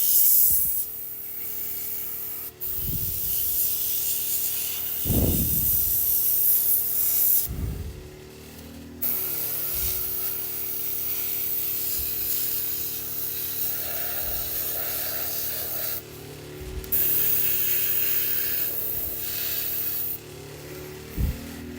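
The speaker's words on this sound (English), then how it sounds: "edge highlighting does look a little more cool when it's done with an airbrush" An airbrush sprays paint onto a Warhammer tank model in long steady hissing bursts with short pauses between them, close and continuous, with faint low thumps beneath.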